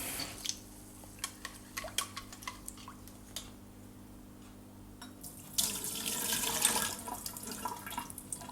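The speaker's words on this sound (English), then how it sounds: "you can rinse it a second time." Water splashes and trickles as fonio grain is rinsed in a bowl, with light ticking drips and small clinks early on, then a louder, fuller run of water pouring and draining toward the end; no talk.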